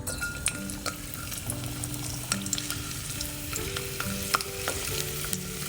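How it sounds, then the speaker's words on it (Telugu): Thick, halved garlic cloves fry in oil in a pan before onions and mutton kheema go in, a continuous close sizzle broken by frequent spoon scrapes and knocks as they are stirred. "ఇవి కొంచెం వేగి అయ్యి మంచి అరోమా వస్తుంది"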